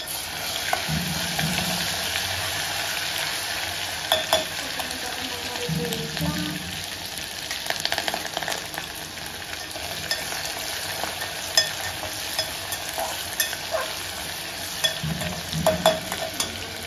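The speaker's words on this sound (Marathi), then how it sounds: "आपलं तेल तापलं असेल टाकून झाल्यावर आपण टाकूया अद्रक लसूणची पेस्ट." Ginger-garlic paste sizzling and frying in hot oil in a home kitchen pan, a steady crackling hiss with intermittent stirring scrapes throughout, close and alone with no talking.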